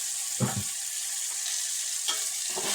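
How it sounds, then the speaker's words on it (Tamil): Ginger and garlic fry in a pan for chicken curry, giving a steady soft sizzle, with a couple of brief scraping stirs from a spoon, close and quiet. "கொஞ்சம் கிண்டிக்கலாம் ஃப்ரெண்ட்ஸ்"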